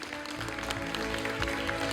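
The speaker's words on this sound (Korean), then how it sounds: "큰 박수 보내주십시오" Audience applause at the 2020 Hanbit awards ceremony in Daejeon as a prize winner is honoured, steady moderate clapping across the hall with a low hum underneath.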